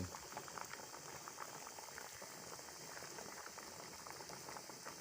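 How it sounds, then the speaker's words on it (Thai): Duck eggs boil in a pot of water with a steady, dense bubbling and rolling simmer that runs continuously and evenly throughout, close and alone with no voices. "ต้มไข่ต้มไข่"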